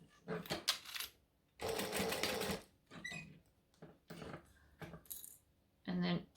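A sewing machine stitches a fabric laptop sleeve in short bursts of rapid needle clatter, with brief pauses and handling noises between runs, close and fairly quiet.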